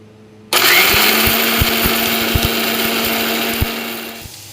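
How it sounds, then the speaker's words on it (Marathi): An electric mixer grinder switches on abruptly and runs with a loud, steady whirring roar, its blades churning with a few rattling knocks before it winds down near the end. "आता मिक्सरच्या भांड्यामध्ये टाकून घेतले पुसून, आणि आता फिरवून घेते मी"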